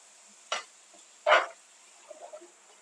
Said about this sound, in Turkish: Salçamı güzelce karıştırıyorum.